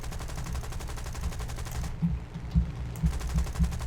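Stock-belt machine guns fire in the War Thunder air battle, rapid rhythmic bursts that run steadily through the first half and break into choppier, punchier volleys later, loud and close.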